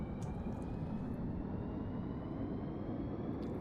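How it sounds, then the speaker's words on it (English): Rotors of a self-built VTOL aircraft with vertical propellers spinning up, a steady broadband whir with a faint high whine, constant and fairly close throughout. "So we've got our rotor starting, and I'm gonna go ahead and take off out of here."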